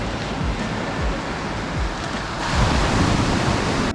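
Waves wash steadily onto a calm, shallow Sardinian beach, a continuous broadband surf rush that swells slightly louder partway through, with no voices.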